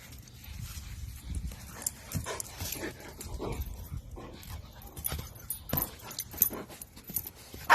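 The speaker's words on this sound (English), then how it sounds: "This dog got really excited when their owner found them hiding." An excited dog whimpers, pants and yelps in quick, uneven bursts, its paws scrabbling and clattering on the floor nearby, with no talking.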